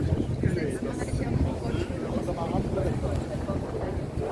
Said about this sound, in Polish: A my płyniemy dzisiaj statkiem kolejny raz i to jest Hamburg